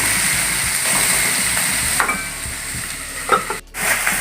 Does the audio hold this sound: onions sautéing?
yes